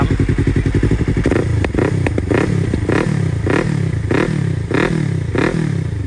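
A Yamaha R3 motorcycle engine revs repeatedly up close, each loud throttle blip rising and falling in a regular rhythm over a constant idle rumble.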